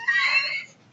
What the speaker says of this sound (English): Oh, that was my dog.